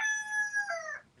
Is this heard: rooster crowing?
yes